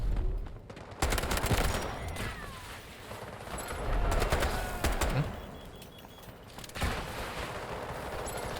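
Gunfire in the shooter game Delta Force, with bursts of rapid shots at moderate distance and sharp cracks repeating across several seconds amid ongoing battle noise.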